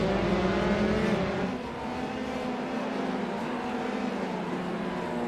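A race car in the iRacing simulation at the Barcelona circuit, engine droning loudly and steadily with a shifting pitch as it runs alongside and passes another car, no voices.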